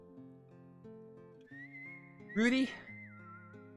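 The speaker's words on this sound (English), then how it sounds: "Dude, I love the whistling." Whistled melody from the Wild Arms video game, a held whistled note over soft instrumental backing, briefly interrupted by a short spoken word before the whistling continues.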